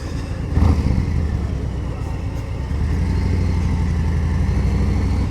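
A motorcycle engine runs steadily in moderately congested traffic, a continuous low drone that swells slightly partway through, heard up close from the rider's position.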